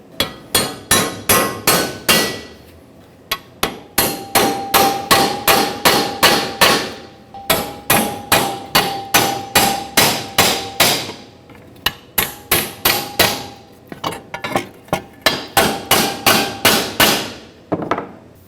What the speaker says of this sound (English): Take your studs and punch them in one at a time.